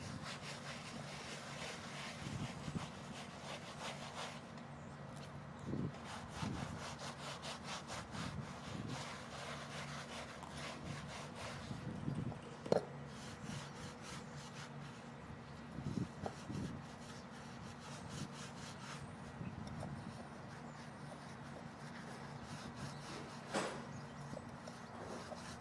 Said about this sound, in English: using a scrub brush, aggressively scrub the base